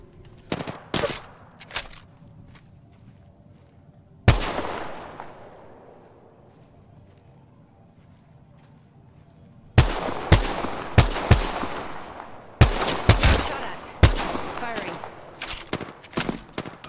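Gunfire in a battle royale video game while playing as Wraith, with sharp close bursts of rapid shots, a booming blast and a long decaying tail, then dense volleys, with game voice lines in between.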